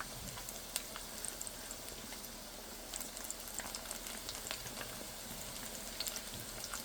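Kechki fish fritters, flattened and shaped fairly large, fry in hot oil with a steady, faint crackling sizzle and scattered tiny pops throughout.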